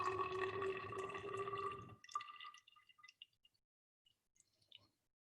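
Acetic acid solution dispensed into a lab flask: a short run of steady liquid pouring for about two seconds, then scattered drips and small splashes trailing off into near silence.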